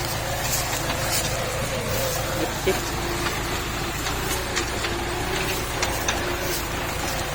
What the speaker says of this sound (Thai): นี่รถไถ